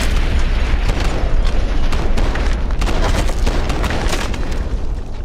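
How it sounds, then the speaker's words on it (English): A loud, sudden explosion in the video game Fallout, a heavy boom followed by a sustained rumbling roar with crackling bursts that fills the whole stretch. "it's always a random explosion"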